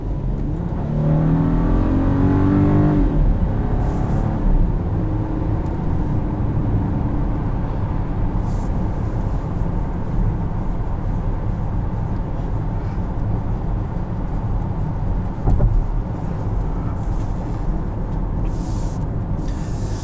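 2021 Volkswagen Atlas SE R-Line accelerating off the line, a steady loud engine drone with road and wind rush heard from inside the cabin, rising briefly early on.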